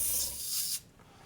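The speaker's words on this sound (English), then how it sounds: "Spray the water out." An airbrush blasts out rinse water during cleaning, a close, loud hiss for under a second that cuts off abruptly, then a quiet tail.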